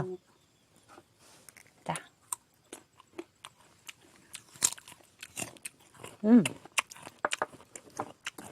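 Crunchy guava bitten and chewed close up, with a rapid run of sharp crisp crunches and loud bites throughout, while a person talks briefly between mouthfuls.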